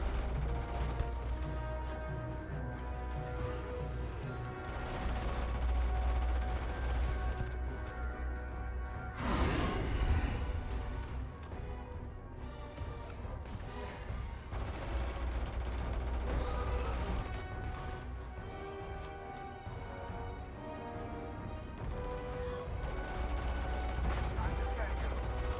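Sustained automatic gunfire against a terror morph in the video game Starfield, dense rapid bursts rattling continuously over a low rumble with a whooshing surge midway, while voices talk over the shooting.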